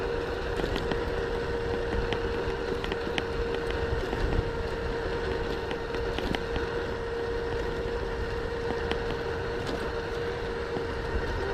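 A Corso Rocco 24-inch 500W 48V electric bike is ridden outdoors in first gear, giving a steady droning motor whine over continuous wind buffeting and road rumble with faint ticks, close and constant throughout.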